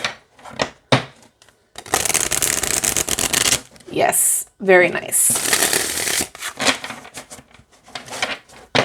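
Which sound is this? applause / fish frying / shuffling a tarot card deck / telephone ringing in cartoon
shuffling a tarot card deck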